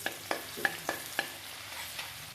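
Garlic and onions frying in oil for chicken egg fried rice, a soft sizzle with five quick, evenly spaced spatula clinks and stirs close by, then the frying hiss continues.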